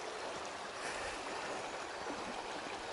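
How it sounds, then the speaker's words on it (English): The River Tweed near Innerleithen, flowing: a steady, broadband rushing of water heard alone and without a break, even in level throughout. "Crossing the River Tweed again."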